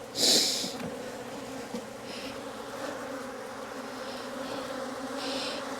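A steady honey bee buzz drones throughout from a sparsely populated hive, with a louder burst near the start, amid faint background noise.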